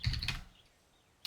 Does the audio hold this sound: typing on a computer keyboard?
yes